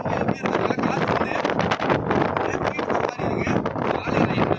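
Strong wind on Parvathamalai hill near Thiruvannamalai, a continuous loud roar and buffeting gusts rumbling across the microphone throughout.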